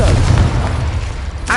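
A Confringo explosion spell in the Hogwarts Legacy video game erupts in a deep, rumbling boom that carries on with dense crackling noise, ending with a brief voice-like flourish.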